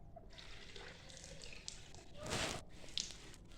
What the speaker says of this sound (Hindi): अब हम अपनी मुर्गी को डालते हैं पानी, जो सा गर्म हमने किया था